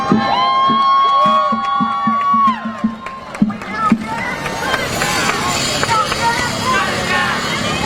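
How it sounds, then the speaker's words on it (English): A crowd at a climate-action protest in Washington, DC cheers and shouts as protesters are carried away, loud and close, layered with overlapping voices and chatter throughout. "You hear people cheering."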